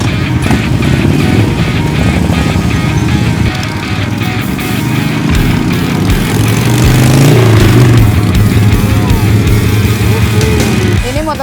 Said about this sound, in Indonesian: Motor saya tuh Moto Guzzi yang V7 Racer yang anniversary ke-10.